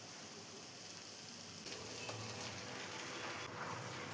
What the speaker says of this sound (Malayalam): ഇനി നമുക്ക് ഇതിലോട്ട് പാസ്ത ചേർത്ത് കൊടുക്കാം.